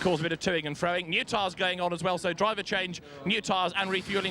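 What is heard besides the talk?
No distinct noise like a dog, phone or traffic.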